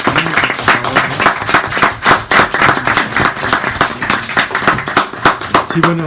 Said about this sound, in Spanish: les pediría por favor un aplauso a ustedes,